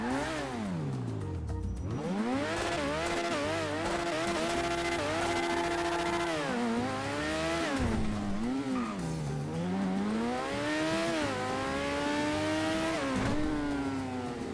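Declasse DR1 open-wheel race car engine in GTA Online revs up and down repeatedly, rising and falling whines through gear changes, loud and continuous with no talking.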